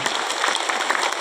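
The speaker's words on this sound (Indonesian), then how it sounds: "2 hari sebagus ini Bapak Ibu boleh kasih tepuk tangan lagi?" Audience clapping for a dance performance at a Waisak celebration, a dense, steady burst of applause from a crowd throughout the short moment.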